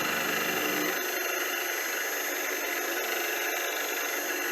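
A metal lathe turns at a low rotation speed while fitted with soft jaws on its chuck, giving a steady, loud mechanical drone with constant hum and no pauses, heard alone.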